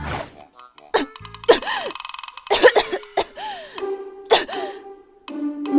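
A woman coughs in a series of sharp, loud bursts, some doubled, separated by short gaps after a splash of cold water, with a few throaty vocal sounds between the coughs.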